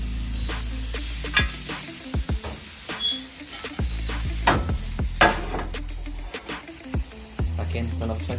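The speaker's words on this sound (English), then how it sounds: "Put our steak in there, salt sides down." Steak searing salt side down in an Ooni Koda 16 gas pizza oven, a constant burner roar with crackling sizzle and irregular scraping and clinking of metal utensils, close and fairly loud.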